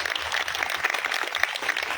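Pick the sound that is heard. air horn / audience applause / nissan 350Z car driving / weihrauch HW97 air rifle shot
audience applause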